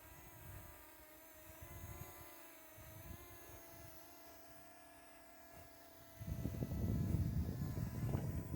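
A Parrot ANAFI drone flying in follow-me mode outdoors gives a steady, high-pitched whirring hum throughout. Its rotor noise swells louder and rougher over the last couple of seconds.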